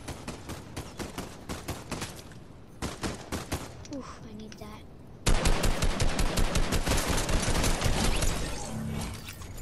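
Fortnite gunfire: sparse single shots early on, then sustained rapid automatic fire grows louder and denser, with players talking over it.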